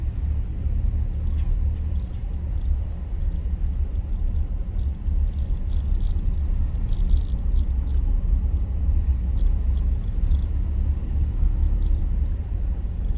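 A car rolls along Clubhouse Road in Lakeland, Florida, with a steady, loud, low road and engine rumble that continues without break throughout.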